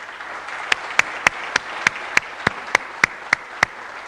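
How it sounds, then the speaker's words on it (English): Applause at the inauguration session of an energy week conference: a soft, steady wash of many hands with one close, sharp clapper beating out a regular rhythm on top. "I would like all of you to give them a round of applause."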